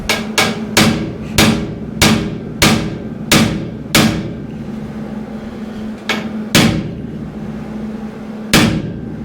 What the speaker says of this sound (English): I think I can just tap it with the hammer.